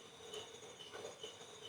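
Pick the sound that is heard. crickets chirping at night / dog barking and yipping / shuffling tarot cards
crickets chirping at night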